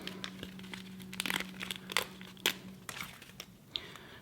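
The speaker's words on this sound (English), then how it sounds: "Peel off a couple of the glue dots." Glue dots peeled from their backing sheet while assembling a robot character building kit: close, bright crinkling and tearing in several short bursts, with no speech.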